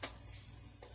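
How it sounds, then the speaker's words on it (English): An oat and banana pancake is flipped in a frying pan, giving a faint, steady sizzle with a soft scrape or tap at the start and another small touch near the end. "I'm going to turn this pancake now"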